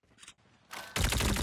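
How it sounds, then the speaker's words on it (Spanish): Call of Duty Mobile gunfire: after a faint blip or two, a burst of automatic shots starts and then turns into a sustained loud volley of rapid fire. "Acabo de escuchar disparo."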